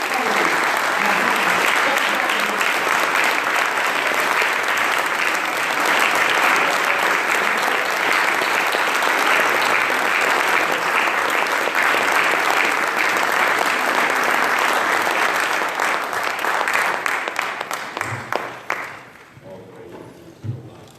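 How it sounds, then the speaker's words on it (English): A large Baltimore audience gives sustained, dense applause to Student Minister Tony Muhammad, loud and steady for a long stretch before thinning and fading out near the end. "Give him a Baltimore round of applause"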